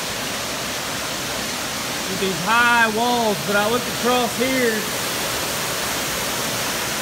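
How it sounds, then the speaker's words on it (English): Rushing water from a creek between high rock walls makes a constant, loud broadband roar, and someone speaks briefly over it partway through. "I don't know how well you can hear me for the water"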